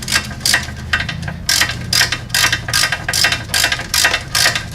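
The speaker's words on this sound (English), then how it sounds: "Don't ever buy a Cornwell ratchet." Cornwell ratchet tightening front brake bolts on a Hyundai Sonata: steady, close rhythmic ratcheting clicks in repeated strokes, alone with no talk.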